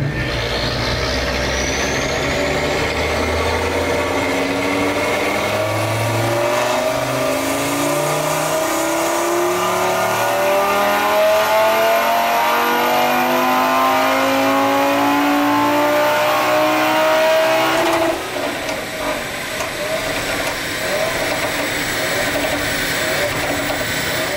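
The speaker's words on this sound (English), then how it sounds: "there's a few runs of the RS3 making a fair bit of noise on the dyno" An Audi RS3 with a stage 3 hybrid turbo revs hard on a dyno, climbing steadily in pitch for several seconds, loud and close, then drops off abruptly and settles into a lower roar.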